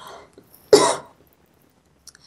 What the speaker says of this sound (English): I don't know why I'm coughing today.